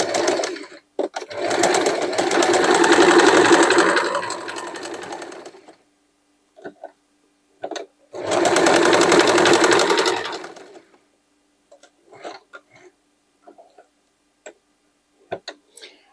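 A sewing machine stitches denim and net fabric in two loud, rapid bursts of several seconds each, separated by quiet pauses with scattered clicks and handling taps.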